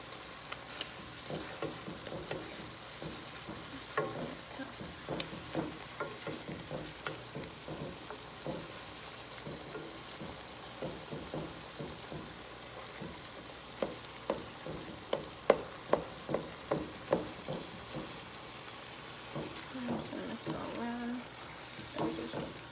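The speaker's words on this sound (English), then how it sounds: "I'm gonna put my shrimp in. Just a little bit, so that I can cook up as well." Raw shrimp fry in a pan with a soft, continuous sizzle broken by frequent clattering stirs, while a person talks intermittently over the cooking.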